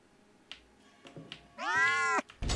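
An animatronic cat in the horror game Case 2: Animatronics Survival lets out one drawn-out, wavering meow after a few soft clicks and footsteps, fairly close and clear, with no talking.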